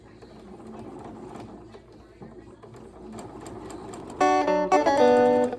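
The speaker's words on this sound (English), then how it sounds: "Just sewing, doing some top stitching here on the button band" A sewing machine topstitches the button band of a boy's shirt, starting with a low, quiet rumble and then running loudly in a steady, humming burst over the last second and a half.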